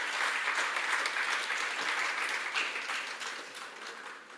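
An audience applauds at an Indian community celebration in Thailand honoring Netaji Subhash Chandra Bose, with dense, sustained clapping throughout that tapers slightly toward the end.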